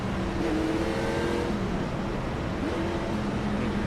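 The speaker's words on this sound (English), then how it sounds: "A lot of rev hang in these cars." A NASCAR Gen 4 race car engine in iRacing revs and hangs on a continuous loud drone, its pitch sliding up and down through gear changes without any speech.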